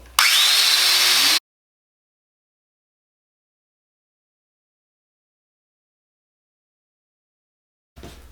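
A Festool Domino DF 500 joiner with its head assembly removed whirs loudly for just over a second with a rising motor whine, then cuts to silence before a brief faint sound at the very end.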